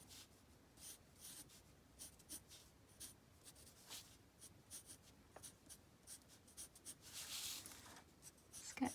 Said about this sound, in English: sketching in, following the curve and coming up here